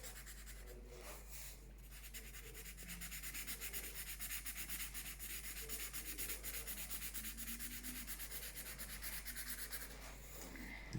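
Steady, quiet rubbing and scratching of a marker stroking back and forth across paper while layering coats of color, soft and close with a continuous texture and no talk.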